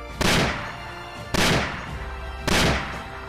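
Three loud, booming gunshot effects, spaced about a second apart, each fading into a short rumbling tail as shots hit zombies in the head.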